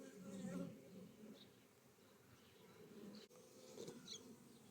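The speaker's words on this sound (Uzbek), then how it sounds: "Ari juda ham zo'r holatda ishlayapti ekan." Honeybees swarm and hum around an opened beehive during a frame inspection, a dense, steady buzzing drone that fills the whole stretch, close and continuous, with a brief dip near the end.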